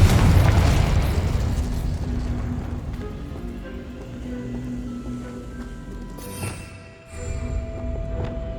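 A spell explodes in the Hogwarts Legacy video game, a heavy boom that opens loud and then rumbles away over several seconds, followed by a softer burst near the end.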